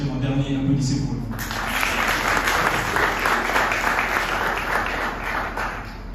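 Congregation-style audience in a hall applauding, a dense sustained wash of clapping that swells in after a spoken call and continues loud and even to the end.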